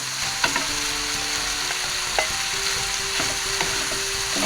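Black squid ink fried rice stir-frying in a pan, a steady loud sizzle with scraping spatula strokes and occasional clicks of utensil against the pan, no voices.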